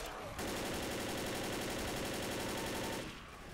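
Rapid sustained gunfire from Left 4 Dead's Blood Harvest campaign, a dense automatic burst running nearly three seconds, loud and close, starting abruptly and cutting off, with no speech over it.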